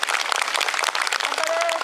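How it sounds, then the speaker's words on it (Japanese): Crowd applause at the Noge street performance festival in Japan, dense continuous clapping from a large outdoor audience with a brief whistle-like tone near the end. "どうぞ彼に大きな拍手歓声をいただけると嬉しいです。"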